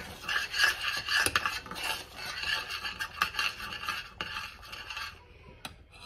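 A spoon scraping and rubbing around a pot as salt is stirred into grits, a steady close raspy scraping with a few sharper knocks against the pot, continuing for several seconds before quieting near the end.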